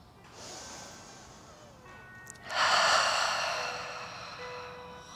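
Long, deep yoga breaths up close: a slow, gentle airy inhale builds, then a fuller, louder breath rushes out and fades gradually, with no talking.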